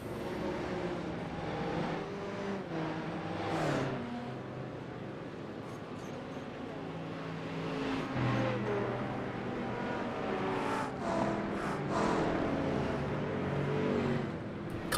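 LMP2 and GT3 race cars in the pit lane of a racing video game at Sebring, with engines droning and shifting in steady layered tones, several cars overlapping and rising and falling throughout.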